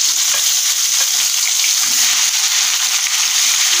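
Ground masala paste fries loudly in oil for chana masala, a dense, even hiss of sizzling with faint stirring taps, close up and continuous throughout.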